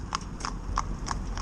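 A traditional cob mare's hooves clip-clop on a paved road during a training drive, about five steady, evenly spaced strikes, fairly faint over a low background rumble.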